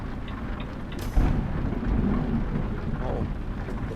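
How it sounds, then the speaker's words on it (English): Thunder rumbles over steady rain while a truck sits stopped at a fuel station in a driving game; a sharp crack lands about a second in, followed by a low rolling boom. "the thunder."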